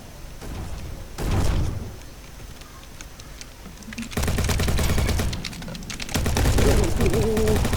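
MP7 gunfire in Bad Business rattles in loud rapid bursts, a short volley early on and then two longer sustained strings of close automatic shots.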